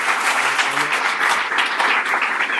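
Steady applause from an audience at a talk by Tariq Ramadan, a dense, even wash of clapping that runs loud and continuous throughout with no break.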